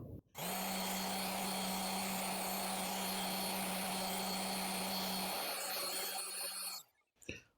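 A random orbital sander runs on the edges of 1/4-inch plywood, a loud steady whirring buzz starting abruptly, holding for about six seconds, then stopping and winding down.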